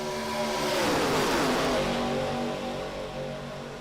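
Race car engines roar together at Talladega in a racing video game, a dense, loud, sustained drone with slight rising revs and no voices.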